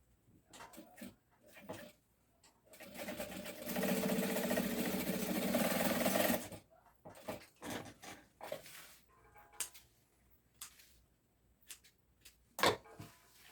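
A sewing machine stitches a padded backpack strap in one continuous, loud mechanical whir lasting a few seconds, framed by softer handling knocks and brief rustles before and after.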